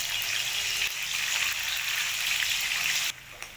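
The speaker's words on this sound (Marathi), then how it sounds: "कसं गुलाबी कलरचं तळताय का?" Paneer fries in hot oil in a pan, giving a dense, continuous crackling sizzle close by that drops off sharply near the end.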